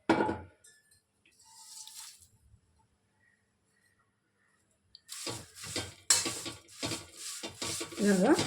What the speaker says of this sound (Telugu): ఇప్పుడు కరివేపాకు వేసుకోండి ముందు కొంచెం డ్రై రోస్ట్ చేసినా కూడా పర్వాలేదు లేనప్పుడు ఇలా వేసు వేయించుకోండి